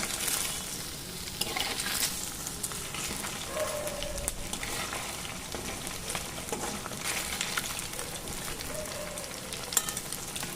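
Cornflour-coated paneer pieces fry in oil, giving a steady, close, dense crackling sizzle throughout, with no voices.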